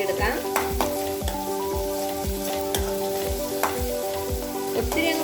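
Small onions (shallots) sizzle and fry in oil for a Kerala-style chutney, giving a steady close crackle with repeated stirring scrapes and a low tonal hum underneath.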